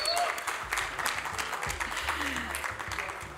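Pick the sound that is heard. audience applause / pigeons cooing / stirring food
audience applause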